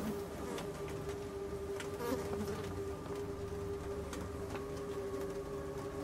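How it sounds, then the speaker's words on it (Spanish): Flies buzz steadily throughout in a horror video game, a continuous insect drone with a sustained hum and faint flickering clicks, no talking over it. "Moscas."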